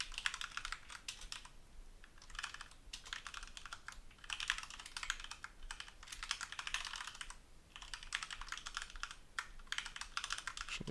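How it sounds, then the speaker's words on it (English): Steady typing on a computer keyboard, a quiet, rapid patter of keystrokes coming in bursts separated by short pauses, heard close by with no talking. "I can type it on my keyboard."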